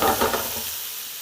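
Food fries in a pan with a soft, close sizzle and a few stirring scrapes at first, settling into a quieter steady hiss.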